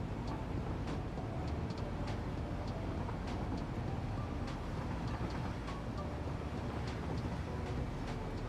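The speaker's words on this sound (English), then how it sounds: "Another one of my sulfur trains." A sulfur train in the video game Factorio rolls past as a constant, dense rumbling roar with faint rhythmic clicks over it, steady and loud for the whole stretch with no talking.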